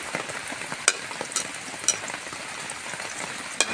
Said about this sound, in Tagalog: Okay, magigisa na tayo.